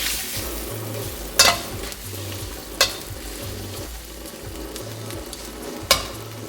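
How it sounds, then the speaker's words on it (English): Shrimp sautéing in garlic butter in a pan, a steady close sizzle with a low hum underneath and a few sharp utensil clinks against the pan. "Now we're gonna let it take a little color like this until all the shrimp is nice and pink."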